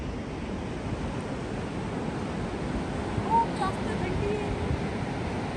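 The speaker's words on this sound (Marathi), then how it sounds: "ह्या साईडला समुद्र आहे" A steady broadband roar of sea waves washing in on a snowy European coast beside a forest, continuous and fairly distant, with wind noise blended in.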